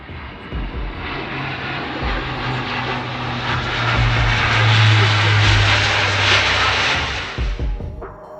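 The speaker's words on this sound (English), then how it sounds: "Although this aircraft doesn't have the same maneuverability as the fighter jets that follow, it still puts on an impressive show of its own" Blue Angels Fat Albert transport plane flying at an air show, a loud propeller-engine roar that swells as it passes overhead and then fades.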